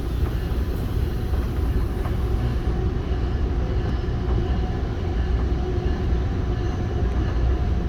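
An EXO commuter train rolls between Saint-Bruno and Saint-Lambert, its loud, steady rumble and track noise heard from on board with faint clicks over the wheels.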